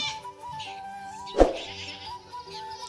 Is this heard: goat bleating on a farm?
yes